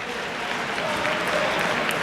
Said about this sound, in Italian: applausi per Doro, direi assolutamente meritati.